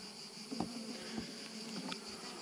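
A small, very calm honeybee colony from a young micro-swarm gives off a faint, soft buzzing hum, with a few slightly louder passes rising briefly from the quiet background drone.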